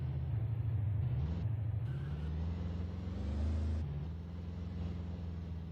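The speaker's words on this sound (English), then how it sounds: "he's gonna do his burnout here after winning a beautiful race" A stock car at Iowa Speedway performs a victory burnout after an NSRA race: a loud, sustained engine drone that rises and falls, with a sharp change near the end and a hissing, tire-like wash above it.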